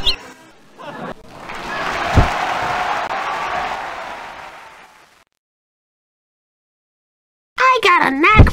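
Crowd applause and cheering from the 1996 PC game Elroy's Costume Closet swell up and hold for a few seconds, then fade into silence before a cartoon voice starts talking.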